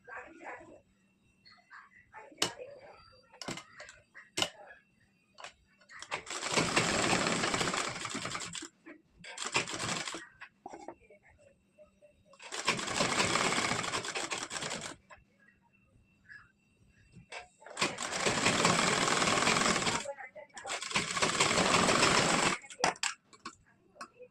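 A sewing machine stitches a blouse in several loud runs of a couple of seconds each, with quiet pauses between them filled by small clicks and taps.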